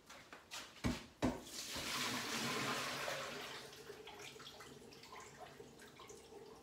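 Lemon water that soaked frozen fish is poured off into a sink, starting with a few clunks of handling before a steady splashing pour fades into a softer trickle and drips, heard close up in a quiet kitchen.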